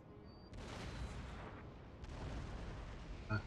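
Napoleonic cannon fire in Napoleon: Total War, heard as two deep booming artillery blasts a second and a half apart, each trailing off in a rumbling roar over low battlefield noise.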